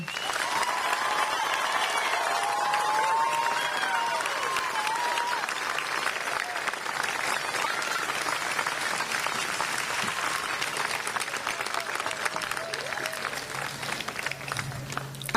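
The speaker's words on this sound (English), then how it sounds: "Would you please join me in applauding the class of 2022?" A crowd at a high school graduation ceremony applauds the West Bridgewater class of 2022 with sustained, dense clapping that holds steady for about fifteen seconds, with faint cheers and voices mixed in.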